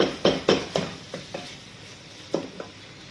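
Minced beef sautéing with golden brown onion in a pan, a series of sharp spatula scrapes and stirring knocks over a low sizzle, close and fairly loud.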